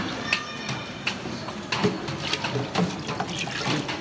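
Cow dung and cow urine mixture poured into 20 litres of water while making Bijamrita, a steady close splashing and trickling of liquid with a few louder sloshes, no talk.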